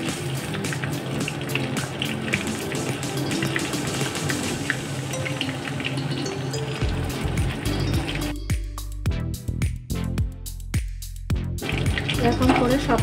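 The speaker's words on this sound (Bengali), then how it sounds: "টিকিয়া পুরো সম্পূর্ণ ঘিয়েই ভাজতে হবে, না হলে খেতে ভালো লাগবে না।" Mutton tikiya frying in ghee, Kolkata royal style, gives a steady, close sizzle that fills the first half. Later it breaks into irregular thumps and clatter as the pieces are handled in the pan.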